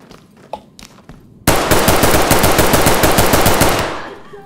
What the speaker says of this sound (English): Gonna mag dump him.